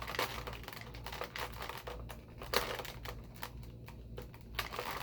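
A knife slices and snips through plastic packaging to free a NECA TMNT Casey Jones action figure, giving quiet clicking, crinkling cuts in short irregular bursts close up, with no talking.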